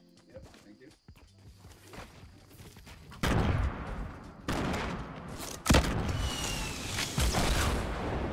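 Fortnite Battle Royale gunfire, starting quietly under a voice and then breaking into louder bursts of shots and a sharp boom partway through, close and intense toward the end.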